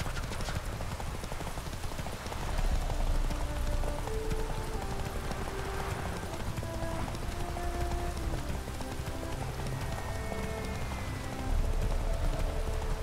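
Horse hooves clip-clop steadily in The Witcher 3: Wild Hunt, a rapid, even trotting rhythm over a busy game soundscape with tonal music and ambient effects running throughout.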